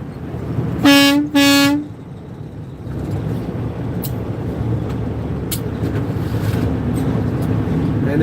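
Two loud, blaring truck horn blasts sound in quick succession, followed by steady road and engine rumble as the truck keeps moving.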